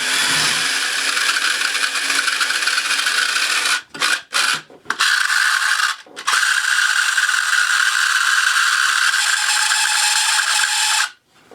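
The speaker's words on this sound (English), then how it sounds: "Just a gummed up motor. Let it work itself out." Gummed-up motor grinding inside a metal gearbox of a restored classic motorcycle racing arcade game, a loud continuous rasping whir that cuts out briefly a few times before resuming and stopping near the end.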